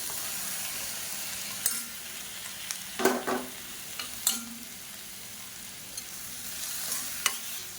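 Onions with two medium chopped tomatoes sautéing in a pan for chutney, a soft steady sizzle under scattered scrapes and clinks of a spoon stirring, fairly quiet and close.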